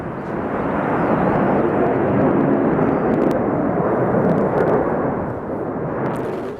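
Russian Pacific Fleet fighter jets roar through a war drill, a loud, continuous broadband rumble swelling and holding steady for several seconds with no voices.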